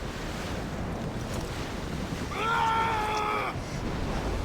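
Ocean waves and wind wash around a sailing ship at sea in Assassin's Creed Freedom Cry, a steady surging roar with a brief tonal creak or call rising midway, no talking.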